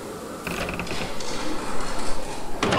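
A door creaks open in a video game set in a house in the woods, giving a drawn-out mechanical creak that swells, then a short louder crunch at the end.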